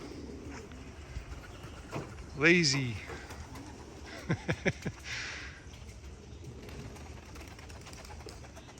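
Young racing pigeons coo close by while a few wingbeats flutter and clatter, a brief soft call rising over a quiet outdoor background, with a person saying a word.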